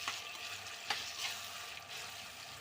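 Broad beans fry in a pan for a tomato curry, giving a soft, steady sizzle with a few brief stirring scrapes. The sound is close but fairly quiet, with no talk.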